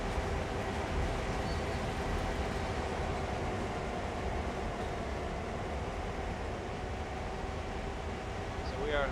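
Simulated freight train in Train Sim World pulling out of a yard with a trash train, a steady low rumble and rolling drone throughout, moderately loud, with a brief higher tone near the end.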